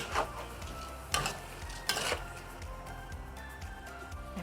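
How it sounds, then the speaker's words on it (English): Stir-frying in a pan while cooking for Chinese zongzi sticky rice dumplings, with a steady sizzle broken by a few sharp spatula scrapes and stirring strokes, close and moderately loud, with no talking. "Okay, continue fry."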